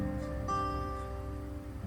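An acoustic guitar in DADGAD tuning lets its open strings ring together as one quiet, sustained chord that slowly fades, with no other sound around it.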